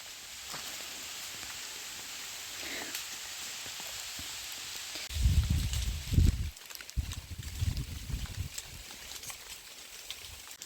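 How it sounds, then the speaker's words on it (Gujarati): Rain falling on an open farm orchard with mango trees and cut fodder, a steady faint patter that swells into heavier, louder bursts of drumming in the second half. "જો આ વરસાદ આવે છે"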